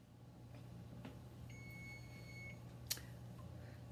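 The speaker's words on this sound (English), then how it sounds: "the sound of the beep right there" A single steady electronic stove timer beep sounds for about a second over a faint low hum and quiet kitchen clatter, followed by a sharp click.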